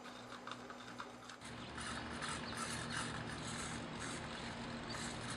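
A small FPV pan-tilt camera mount for a Slow Stick model plane whirs mechanically as its servo-driven head tilts up and down, a steady close gear-like hum that grows louder partway through, with no talking.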